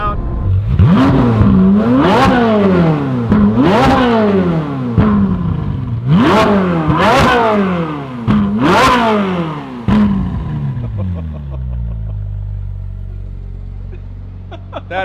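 A Ferrari 458 engine revs hard in repeated bursts, its pitch sweeping up and falling back about five times before settling into a low idle, loud and close.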